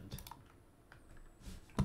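A cat treads across a computer keyboard, setting off scattered clicks and key presses at an uneven rhythm, close and moderately loud, with no one talking.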